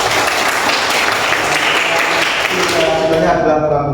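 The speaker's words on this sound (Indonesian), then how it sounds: "tepuk tangan semuanya." Dense applause from a classroom crowd, steady and loud throughout, with voices mixed into the noise as it continues.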